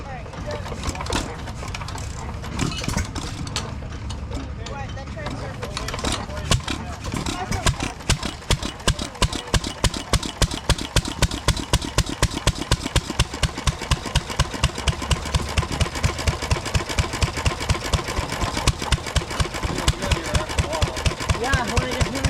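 A McCormick International Type M stationary engine drives a big grain elevator blower at an outdoor threshermen's reunion, its loud, steady rhythmic chuffing firing beat running continuously alongside voices.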